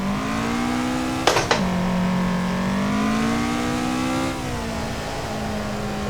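Toyota AE86 engine in the Assetto Corsa racing game during a drift: a steady, loud engine drone that rises and falls in pitch, with a brief sharp blip early on.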